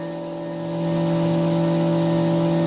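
A machine cutting out a bracket in a single pass makes a steady, loud tonal whine with strong sustained hum that swells slightly and then holds constant, with no talking.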